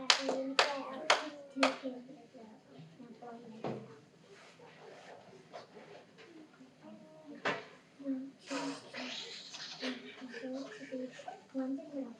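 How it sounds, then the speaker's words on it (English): Children and adults at a classroom presentation clap for their teachers in a few short bursts, sharp close hand claps at the start and again later, mixed with scattered taps and children's voices talking between. "Applaud for our teachers."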